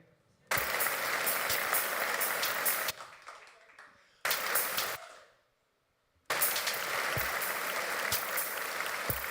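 Audience applause on cue at a Mario Day storytime, three bursts of dense clapping separated by short quiet gaps, each starting abruptly and fading out.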